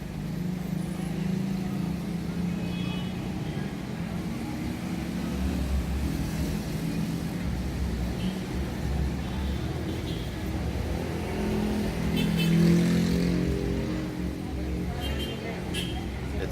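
Heavy evening street traffic of cars and motorcycles in Cebu City, heard from a roadside spot by a 7-Eleven as a steady, continuous engine rumble with vehicles passing nearby.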